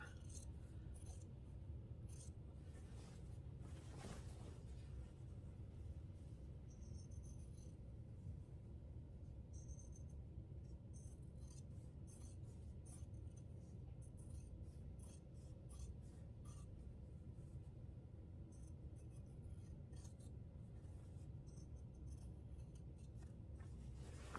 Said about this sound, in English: now I'm just going to take my scissors